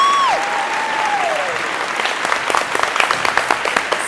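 A studio audience breaks into applause, a dense wash of hand clapping that thins into scattered individual claps, with a short vocal exclamation at the start.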